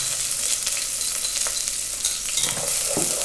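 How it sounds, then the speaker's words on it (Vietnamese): Pounded shallots and minced onion sizzle and crackle loudly in hot oil in a pot while being stir-fried for a Vietnamese mì Quảng broth, with occasional scrapes and clinks of a utensil and no talking. "Mình xào để cho nó thơm."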